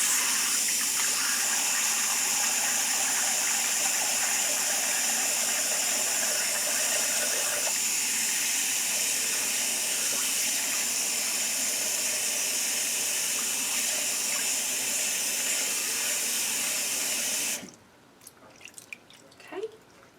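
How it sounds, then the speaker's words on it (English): A bathroom sink fills with clean, cool water for a wig's final rinse, a steady rushing stream from the tap running loud and even for most of the time before cutting off, leaving a few faint drips and splashes. "And then I fill the sink again with clean, cool water"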